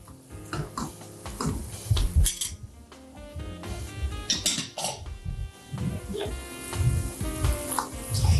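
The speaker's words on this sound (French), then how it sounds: "Je vais mélanger très très bien." Meat is stirred in a cooking pot with dersa spice paste for an Algerian dish. A spoon scrapes and clinks against the pot again and again over a soft sizzle, close and uneven, with no talking.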